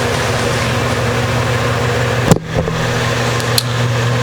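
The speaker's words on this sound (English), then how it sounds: "That's just the fan in here." An electric fan runs steadily in a room, a constant broadband whoosh with a low hum throughout, briefly interrupted by a couple of sharp clicks near the middle.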